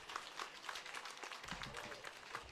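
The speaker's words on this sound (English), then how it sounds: "may we give another round of applause to Dr." Audience applause rings out at a political launch event for the NRM members' register with President Museveni present, a steady, close burst of many hands clapping that carries through the whole moment with no talking.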